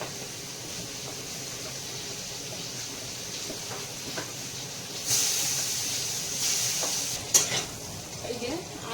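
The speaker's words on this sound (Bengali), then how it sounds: "আলু কুমড়ো আর ধনিয়াটা ভালো ভাজা হয়ে গেছে" Potato, pumpkin and coriander fry in a pan with a steady close sizzle. Spatula stirs and scrapes run throughout, and the frying swells louder in the second half with a few sharper clinks near the end. No one speaks.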